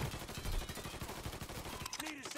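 Rapid automatic gunfire in the video game Mafia 3 rattles in a dense, continuous burst, loud and close, then cuts off as game voices and effects take over.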